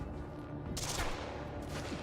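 A carbine rifle fires in the video game Quantum Break, with two quick, sharp bursts of gunfire over a busy background of game sound.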